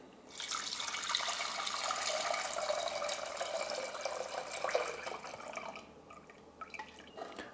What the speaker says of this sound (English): this lemon mixture through the strainer directly into the sugar syrup.